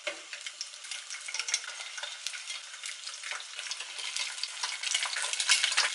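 Eggs fry in a pan with a bright, continuous sizzle and crackle that swells slightly toward the end, with no voices.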